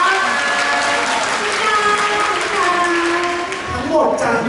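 Press audience applauding a K-pop group at a concert press event, steady clapping with a host's voice speaking over it.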